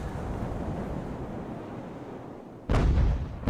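Cannon fire in a naval battle video game: a low, continuous rumbling roar breaks into a sudden loud, heavy boom near the end, booming and close.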